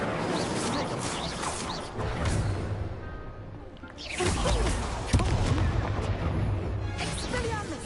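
Fiery whooshing bursts and crackling blasts of the Incendio fire spell in Hogwarts Legacy, two loud surges several seconds apart amid a busy, dense combat mix.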